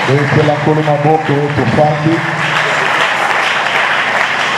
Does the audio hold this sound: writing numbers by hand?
no